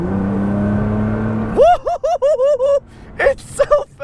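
A Nissan GT-R takes a fast turn with a low, steady engine drone, then a voice cuts in over it with lively, laughing vocal sounds.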